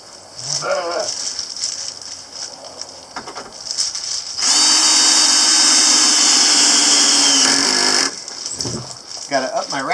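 A power drill drives screws into a wooden shelf mounted on a wall, whirring steadily at close range for several seconds, with shorter bursts and tool handling before and after.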